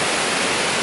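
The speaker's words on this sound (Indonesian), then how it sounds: "air terjun Guru Gemurai" Guruh Gemurai waterfall with water rushing steadily, a dense, continuous broadband roar that stays even and unbroken throughout, close and loud with no other sounds.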